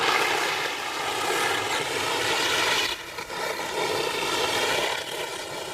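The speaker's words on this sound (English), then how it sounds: "That was the sound of Bendy glissading down a really icy slope." Someone glissading down a very icy snow slope, a continuous harsh scraping hiss with a rapid juddering texture, loud and close, one short break partway through, no talking.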